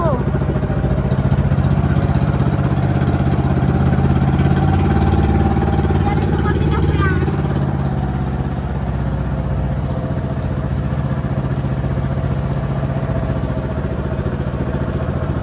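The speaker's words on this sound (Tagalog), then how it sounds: "Nabingi ako sa motor." A motorcycle engine runs loud and steady close by, a continuous droning rumble that persists throughout while people talk over it.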